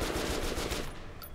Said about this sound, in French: je tire encore mes balles premium